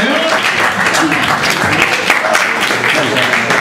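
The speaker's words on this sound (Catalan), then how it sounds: "ara un aplaudiment per Lluís" A crowd at a pork cooking event applauds, a thick, continuous wash of clapping that holds at an even level throughout, with faint voices mixed in.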